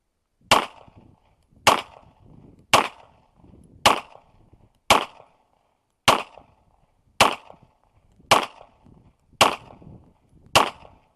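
A Polymer80 G34 pistol fired strong hand only: ten sharp, loud shots at a steady pace of roughly one per second, each cracking out cleanly with a short tail, and no talking between them.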